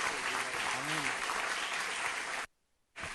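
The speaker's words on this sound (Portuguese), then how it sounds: "dê um aplauso ao Senhor Jesus" Congregation applause in a church service, steady dense clapping with a brief voice under it before cutting to silence near the end.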